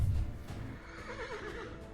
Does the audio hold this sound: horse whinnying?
yes